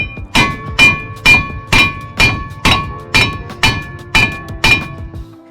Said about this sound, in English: And now we're gonna just hammer it from the backside.